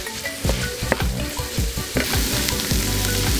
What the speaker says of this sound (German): Dann kommt das alles in eine heiße Pfanne mit Butter.